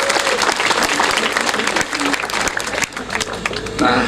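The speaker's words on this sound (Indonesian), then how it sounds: "Tepuk tangan untuk Bank Rakyat Indonesia." An audience at a school induction ceremony for the class of 2016 breaks into loud, sustained applause, dense clapping filling the hall from start to finish.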